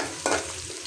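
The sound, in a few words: onions frying until brown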